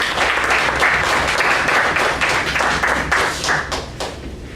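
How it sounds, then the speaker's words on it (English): A smaller audience at a Toastmasters club meeting claps for a member, with individual claps clearly audible in a lively, uneven rhythm that tapers off toward the end. "Give him a big round of applause"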